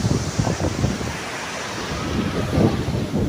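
Sea waves wash onto the beach at Trasi at sunset, a steady rolling surf with broad rumbling swells, accompanied by wind buffeting the microphone, with no talk.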